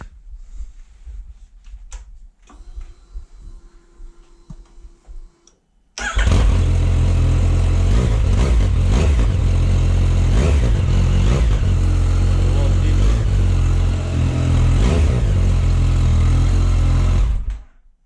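Quiet clicks and faint rustling, then a Yamaha MT-09 motorcycle engine with an Akrapovic titanium exhaust fires up and runs loud and deep with a throaty, rumbling exhaust, steady until it cuts off.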